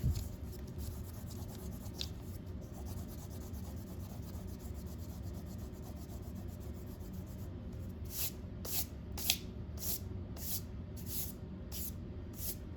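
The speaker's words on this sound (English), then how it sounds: "next we're gonna go ahead and erase all those pencil lines that we have" Soft rubbing of an eraser clearing pencil lines from a drawing of a seal on ice, a quiet, continuous scrubbing that turns into a series of short, regular brisk strokes near the end, with no talking.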